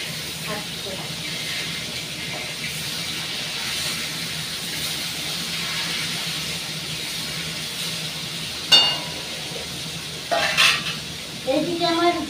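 Mustard oil heated for mango chutney with whole spices tempering in it, giving a steady soft sizzle and hiss with occasional clinks of utensils near the end, and no talk.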